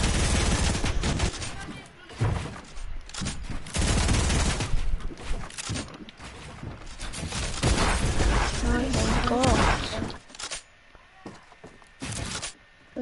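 Bursts of gunfire from enemies in a squad-based video game match, loud and irregular, separated by quieter gaps, with players talking among the shots.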